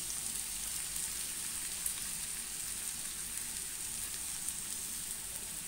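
Chicken frying in butter over a medium flame gives a steady, even sizzle, soft and continuous with faint crackles and no talk.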